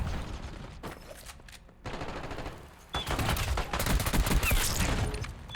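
An unmodified gun in Black Ops 6 fires in rapid automatic bursts, loud and close, with short gaps between volleys and a long sustained spray at the end.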